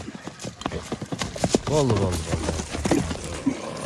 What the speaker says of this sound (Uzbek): Bu o'tganda Jallovatdan kelgan ot ekan